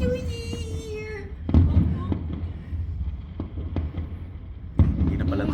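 New Year fireworks at the Microtel hotel in the Philippines go off as several dull booms and crackles at a distance, with a rising whistle early on and people talking nearby.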